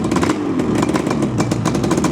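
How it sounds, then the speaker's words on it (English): A fully rebuilt 1982 Yamaha RD350LC two-stroke motorcycle engine revs loudly and close, a buzzy, crackling, rasping note that rises and surges in quick pulses with no talk. "Really nice smooth engine, as you'd expect, having been fully rebuilt."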